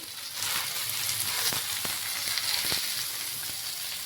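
Stuffed bombil fish fries on a hot tawa with a steady, close sizzle and spits, broken by a few sharp spatula scrapes and taps as the fish is flipped.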